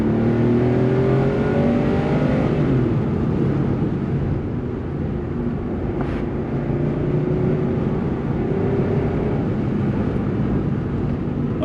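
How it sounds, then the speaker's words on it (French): A Porsche 911 964 Jubilé with four-wheel drive accelerating: a steady, loud engine roar with rising tones in the first few seconds, heard from inside the car with no voices. "Et là, on va peut-être pouvoir accélérer un petit coup."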